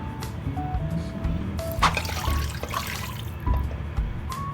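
Tap water poured into a cooking pot for boiling pancit canton in a home kitchen: a continuous splashing, filling rush with some drips and clinks against the pot, fairly close, no talking.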